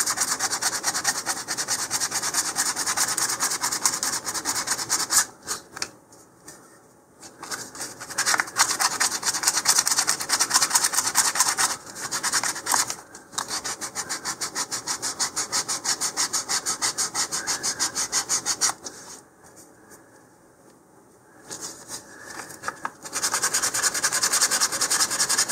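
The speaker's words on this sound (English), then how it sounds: "so I'm going to go ahead and sand down the ridge there." A ridge on a LOC Precision Magnum park flyer model rocket part is sanded by hand, producing a close, continuous gritty rasping in long strokes, broken by a few short pauses.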